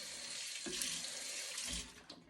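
Hot pasta water is poured into a colander in a kitchen sink, a steady rushing splash heard close up, quiet overall, with no talking.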